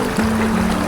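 A river where people are bathing, near riverside campsites, flows with a steady soft wash and trickle and a faint low hum under it, with no voices.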